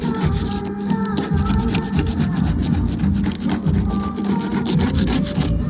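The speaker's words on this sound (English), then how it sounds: "Alright, we're getting all the silicone out." Old silicone scraped out of a Bayliner 1802 boat during an anchor installation, continuous close, gritty scraping and rubbing strokes with a low rumble beneath, no talking.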